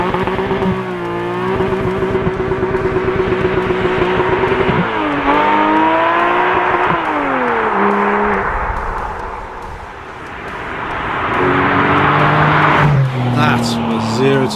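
Porsche 718 Spyder with a six-cylinder engine and 6-speed manual gearbox launching from standstill without launch control, its engine revving loudly and rising through gears with brief dips at each shift, with talk over it.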